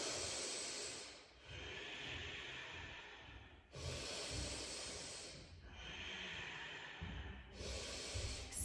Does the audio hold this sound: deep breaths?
yes